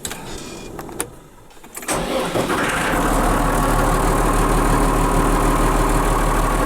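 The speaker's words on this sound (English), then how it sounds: "While the tractor's warming up" A tractor engine turns over and catches on a cold winter farm morning in Sweden, cranking briefly and then settling into a loud, steady idle that continues to the end.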